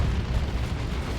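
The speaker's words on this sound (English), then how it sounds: "Plasma Cannon is going to get a shot off." A plasma cannon shot explodes in the real-time strategy game Dawn of War II: Retribution, a loud, dense low rumbling blast sustained through the whole moment with no speech over it.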